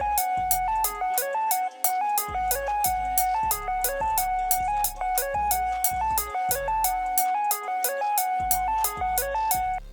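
A second recreated synth lead loops a bright, bell-like melodic pattern over thumping drums and heavy bass, dense and loud throughout without any voice.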